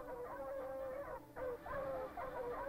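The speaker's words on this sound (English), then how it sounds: "The barking of the dogs." Sled dogs on an Arctic ice trail give a continuous, nearby chorus of howling, yelping cries, with overlapping wavering tones and a brief dip in the middle.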